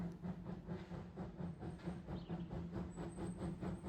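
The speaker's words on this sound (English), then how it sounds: "This train is hauled by a steam locomotive built in Poland" Train hauled by a Polish-built steam locomotive, heard as a steady rhythmic clatter of wheels over rail joints beneath a low rumbling drone, faint and even throughout with a thin high hiss near the end.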